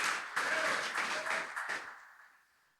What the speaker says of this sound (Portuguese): e as palmas bem fortes para ele, Jesus.